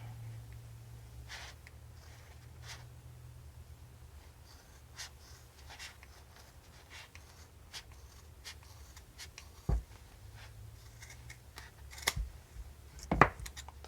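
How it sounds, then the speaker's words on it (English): Scissors trimming the yarn end of a crochet pom-pom: a few sparse, faint snips with soft rustling of yarn against a low steady hum, ending in a couple of sharper cuts. "Let's cut this end."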